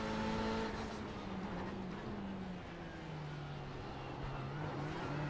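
A GTE race car engine in a racing video game hums at a fairly low, steady level, its pitch sliding gently down and then back up as the car holds speed.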